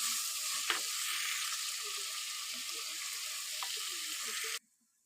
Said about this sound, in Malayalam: ഇനി നമുക്ക് തക്കാളിയും കൂണും കൂടി ഇട്ടെടുക്കാം കേട്ടോ